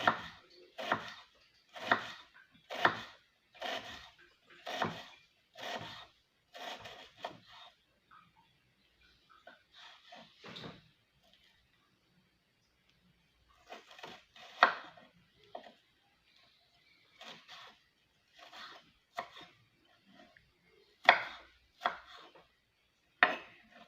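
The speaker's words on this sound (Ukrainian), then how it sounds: "беру 50 грамів синьої цибулинки. Я її ріжу пополам і наріжу такими тоненькими пластинками." A knife cuts a halved red onion into thin slices on a board, a quick run of crisp, regular chops that pauses and then resumes in scattered bursts, close and clear with no talking.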